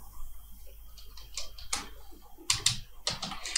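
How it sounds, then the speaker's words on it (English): Keys on a computer keyboard tap out a phone number in quiet, irregular clicks, a few scattered taps followed by small bursts, with no one talking. "let me type in the Ghanaian number."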